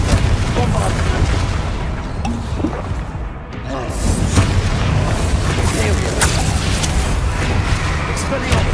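Spell explosions from Confringo and Bombarda in the Hogwarts Legacy video game, loud booming blasts and rumbling impacts layered with dense battle noise, with a brief dip midway before the explosive din resumes.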